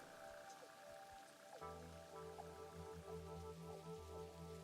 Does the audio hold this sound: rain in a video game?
yes